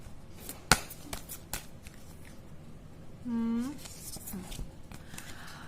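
Tarot cards are shuffled and drawn by hand, giving soft riffling and a sharp card snap near the start, with a short tonal hum in the middle and quiet background noise.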